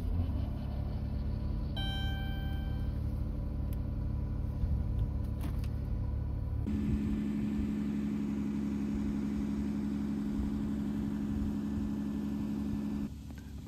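Car engine in -30°C cold after a block heater warmed the oil, first quiet and rumbling, then catching midway into a loud, steady idle that holds to the end.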